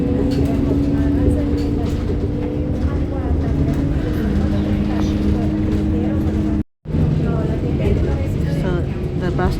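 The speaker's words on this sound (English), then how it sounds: "So the bus took a left turn" City bus driving through Parma, Italy, a steady engine drone and road rumble heard from inside the cabin, briefly cutting out near the end, with a voice talking over it throughout.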